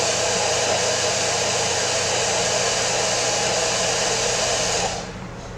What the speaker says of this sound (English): where's my blow dryer? I'm just going to dry it off just a little bit.